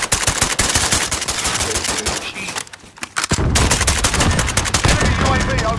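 Automatic gunfire in Call of Duty: Modern Warfare, loud and close, with rapid sustained bursts that break off briefly near the middle and then resume at full intensity.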